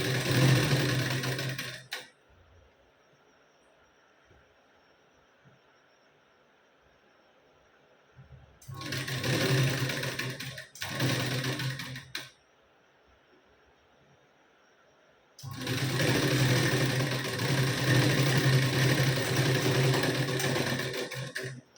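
A sewing machine stitches a sleeve onto a katori blouse in three separate runs of steady, close mechanical whirring, with quiet pauses between them.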